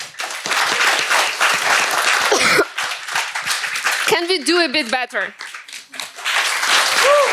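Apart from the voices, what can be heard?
round of applause for founders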